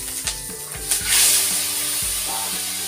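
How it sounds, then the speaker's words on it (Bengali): Small fish hit hot mustard oil in a home kitchen, a burst of bright sizzling and spitting that rises sharply then settles into a steady hiss, with a few clunks of handling nearby. "মাছগুলো দিয়ে নেব"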